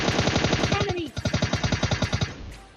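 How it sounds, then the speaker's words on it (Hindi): Gunfire from an M416 and an AKM in the mobile battle royale game PUBG Lite. Dense, rapid automatic bursts, loud and close, form a steady rhythmic stream of shots that briefly breaks and then resumes. "अब मैं उसे कुछ गन शॉट्स देने की ट्राई करता हूँ"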